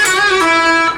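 An electric guitar plays a short lick with a string bend, release and pull-off, clear and close, alone with no talking.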